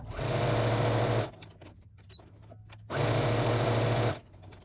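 A sewing machine stitches a quilt-as-you-go log cabin table runner block in two loud, steady bursts of rapid whirring, separated by a quiet pause while the fabric is repositioned.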